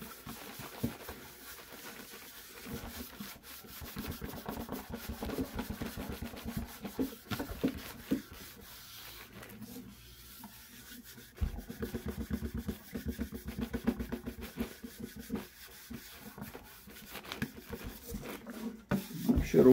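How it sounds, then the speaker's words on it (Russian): Soft, uneven rubbing of a hand pad polishing shellac onto a wooden surface, close and quiet, in irregular strokes with brief pauses between bursts. "И опять буду продолжать полировку."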